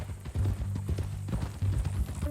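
Horse hooves clip-clop in a steady walking rhythm in the video game Red Dead Redemption 2, close and distinct, under a low ambient backdrop.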